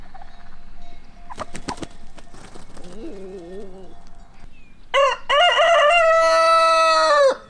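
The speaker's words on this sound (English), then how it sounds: "this year we got a new rooster" A rooster crows loudly and close by on a Portuguese farm, a long drawn-out call near the end, after some clucking and scattered farmyard noises.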